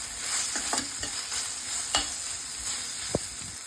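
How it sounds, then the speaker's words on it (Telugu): A spoon scrapes and stirs an egg and onion mixture sizzling in a hot pan, close and clear, with several sharp clacks against the pan over a constant frying hiss. "I'm mixing thoroughly so that the raw smell should go off."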